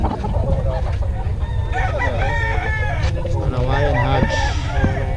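Hawaiian hatch gamefowl rooster crowing and clucking among other fowl at a busy poultry market, repeated calls over constant background chatter and people talking.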